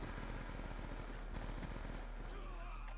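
Rapid bursts of video game gunfire, including shotgun blasts, crackle in a dense, steady stream at moderate loudness, close and continuous, with no talking.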